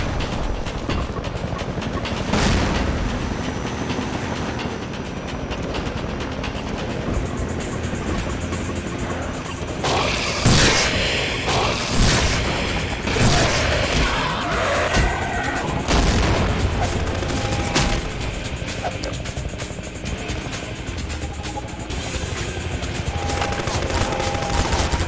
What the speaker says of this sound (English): This fucking hunter chopper.